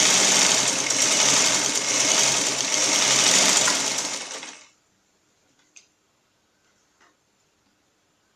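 A sewing machine runs fast and steadily, stitching through folded fabric, a dense continuous whir for about four and a half seconds before stopping abruptly, leaving near silence with a few faint ticks.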